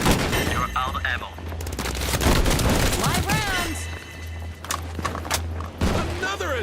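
Heavy gunfire in the shooter game Combat Champions: overlapping volleys and rattling bursts crack loudly and densely for several seconds, mixed with in-game effects and announcer-style voice lines.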